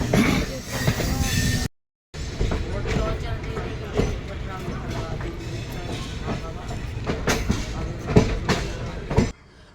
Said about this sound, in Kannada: ಇದ್ಯಾವುದು ಗುರು ಟ್ರೈನ್ಗಳು ಲೋಕಲ್ ಟ್ರೈನಾ ಏನು ಒಂದು ಗೊತ್ತಾಗ್ತಿಲ್ಲ ಯಾವ ಟ್ರೈನ್ ಅಂತ ಇದು